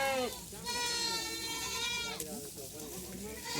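A goat bleats in a long, wavering cry, close by, with another bleat following, over a low background murmur at a goat sale.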